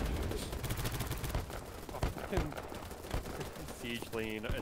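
Rapid bursts of gunfire shell buildings in the video game Battlebit. The shots are dense and continuous, with a synthetic tone near the end.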